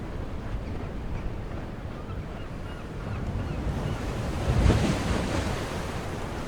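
Ocean surf in Lifeless Moon rolls in a steady wash with wind noise, swelling into a louder breaking wave near the end, continuous and fairly close.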